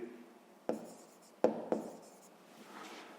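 Chalk or marker strikes a board while a sixth-grade math exercise is worked out, giving a few sharp taps and short scratching strokes, faint and close, with pauses between them.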